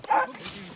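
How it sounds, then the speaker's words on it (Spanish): A hunting dog barks once, close and sharp, during a rabbit hunt in the Chilean countryside, followed by a faint trailing yip and rustling field noise. "¡El perro lo está viendo!"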